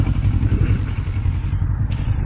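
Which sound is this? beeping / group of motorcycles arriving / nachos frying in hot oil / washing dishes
group of motorcycles arriving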